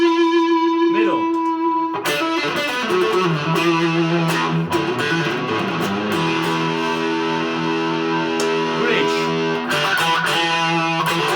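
Chibson ES 355 electric guitar on the middle pickup position, played through distortion with sustained chords and notes ringing continuously, loud and close.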